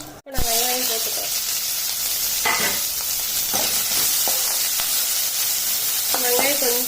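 Onion hits hot oil with popping mustard seeds, giving a loud, continuous sizzle with scattered stirring clicks, while a voice talks briefly at the start and near the end.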